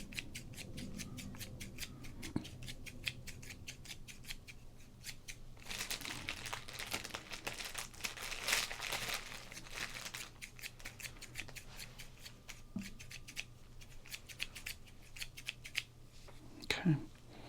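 Scissors snip in quick rhythmic runs, crisp and close, pausing now and then for a brief stretch of rustling before the cutting resumes.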